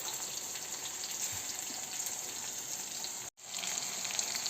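Fresh ginger and curry leaves sizzle in hot oil for kara pongal, a steady close hiss and crackle that drops out for a moment and then resumes.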